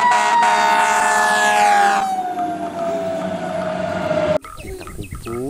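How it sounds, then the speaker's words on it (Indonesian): A toy fire truck's electronic siren wails loud and close, a rising and falling tone that fades out, then cuts off abruptly into faint clicks and rattles. "yang ini mobil pemadam kebakaran"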